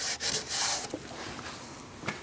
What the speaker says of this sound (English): I'm also going to clean up my threads in here.